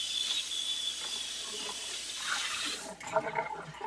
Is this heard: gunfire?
no